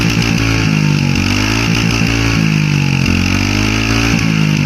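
A Royal Enfield Hunter 350 motorcycle engine runs loud and steady up close, a deep throbbing single-cylinder thump with slight rises and dips in revs, with no speech.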